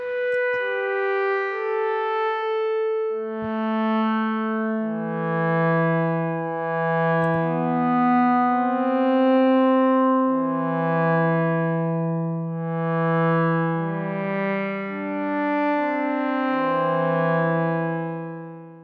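A soft wavetable string synthesizer plays slow sustained chords, with a built-in reverb effect switched on that lets each chord swell and trail off smoothly into the next, heard alone without any talk.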